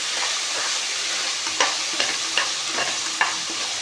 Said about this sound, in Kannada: ಸ್ವಲ್ಪ ಅರಿಶಿನ ಹಾಕೋಣ, ಚೆನ್ನಾಗಿ ತಿರುಗಿಸ್ಕೊಳ್ಳೋಣ